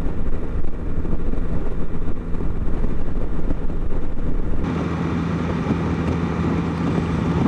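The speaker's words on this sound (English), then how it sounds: "now I'm going to just record some of the ambient sound of motorcycle noise." Motorcycle riding at about 92 km/h recorded from a helmet camera, a continuous low engine drone mixed with wind rush, steady and close, with the tone shifting partway through.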